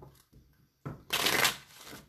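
A deck of tarot cards is riffled and shuffled close by, a quick papery burst of flicking cards after a couple of soft taps.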